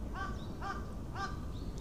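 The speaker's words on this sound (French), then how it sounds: "Comme là, vous entendez bien les corbeaux." Three evenly spaced caws from crows, fairly distant, over a low background rumble, in the historic centre of Hiroshima, Japan.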